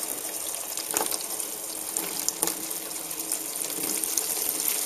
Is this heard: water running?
yes